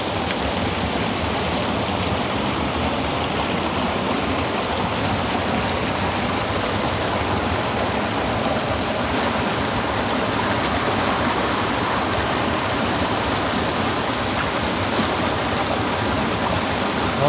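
Fast-flowing water runs through carp-farming fish ponds in a gravity-fed system with no pump, a dense, continuous rushing and splashing that stays loud and even throughout, with no voices.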